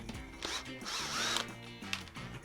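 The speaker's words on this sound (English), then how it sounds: "So I'm just going to use this drill bit and see if I can pop it out." A power drill with a drill bit whirs in short bursts while working a stuck nut loose on a homemade roller skate, close and loud with brief pauses between spins.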